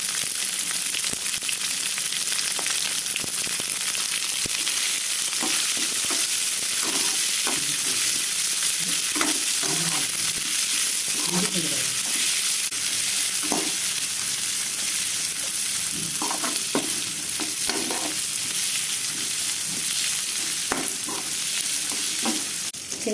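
Garlic cloves and green chilies, then onions, frying in hot oil for onion rice, giving a continuous close sizzle with intermittent stirring scrapes and clinks throughout.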